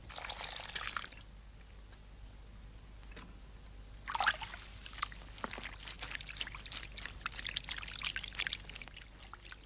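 Wool fleece is washed by hand in soft water and pressed gently, giving bursts of pouring, splashing and trickling that come and go, fairly close and quiet.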